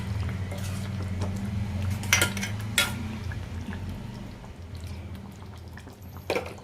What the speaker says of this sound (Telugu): సో ఫైనల్గా ఇలా కొత్తిమీర వేసుకుని ఒకసారి ఇలా తిప్పేసుకుందాం.